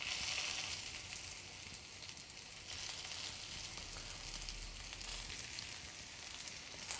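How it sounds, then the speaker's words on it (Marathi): Stuffed okra (bharli bhendi) frying in a pan gives off a steady, moderate sizzle, with faint stirring and flipping noises within the continuous crackle and no voices. "सगळी भेंडी मी पलटून घेणार आहे।"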